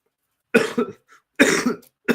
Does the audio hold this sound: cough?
yes